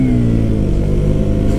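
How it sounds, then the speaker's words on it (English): A stock-exhaust 2017 KTM Duke 125 motorcycle engine revs close by, a loud, steady mid-pitched engine roar held briefly with no voices. "Let's do a little rev"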